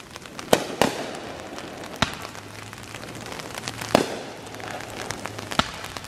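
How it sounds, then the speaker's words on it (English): Scattered fireworks at Great Wolf Lodge pop and crack in the distance, sharp bangs at irregular intervals over a low, steady background rumble. "watching the fireworks"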